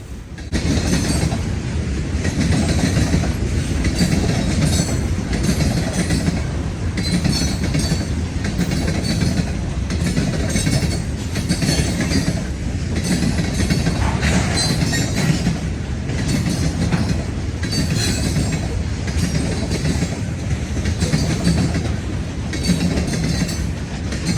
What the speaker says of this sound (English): Every conceivable railway car seemed to be on parade as this monstrous morning manifest made its way past the railway park.